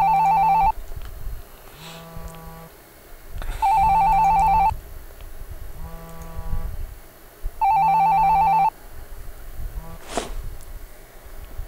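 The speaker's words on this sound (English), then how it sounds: "Your cell phone is ringing." A cell phone rings in the point-and-click game The Drastik Measure, loud electronic ringtone bursts repeating in a steady on-off pattern against quiet background ambience.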